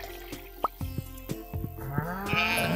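A cow in the farming video game Stardew Valley gives a low, rising moo near the end, preceded by a series of sharp clicks and soft dripping game sounds, with no talk.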